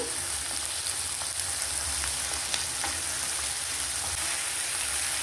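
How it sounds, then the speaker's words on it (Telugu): Ginger garlic paste fries in a pan with a dense, steady sizzle, close and even, with faint occasional stirring scrapes and no talking. "ఈ అల్లం వెల్లుల్లి పేస్ట్ పచ్చివాసన పోయే వరకు ఇలా కొంచెం ఫ్రై చేసుకోవాలి"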